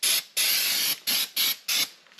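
Brake cleaner hisses onto trailer brake shoes to strip off grease in five sharp aerosol bursts, one long and the rest short, close and loud, with no talking.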